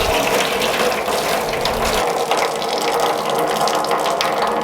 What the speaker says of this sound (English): pull the hose back and it'll drop all its water into the tray I've put underneath